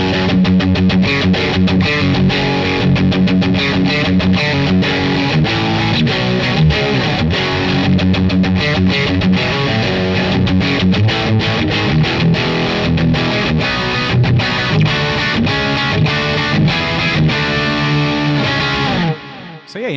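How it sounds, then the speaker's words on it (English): Heavily distorted electric guitar plays through a Boss Katana Artist MKII head on its lead channel turned all the way up, a loud saturated riff with dense chugging notes that stops abruptly at the end. "the lead channel with it all the way up"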